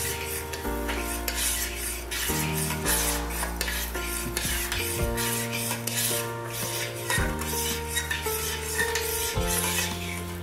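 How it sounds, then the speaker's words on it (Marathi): A metal spoon stirs milk, sugar and agar agar powder together in a pot, giving a continuous scraping, rubbing clatter against the pot with repeated strokes and no voices. "हे सर्व छान मिक्स करून आपल्याला उकळायला ठेवायचं आहे."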